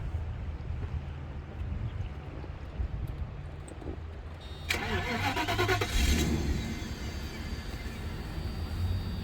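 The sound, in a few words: 1994 Mercedes-Benz W140 S500 engine starting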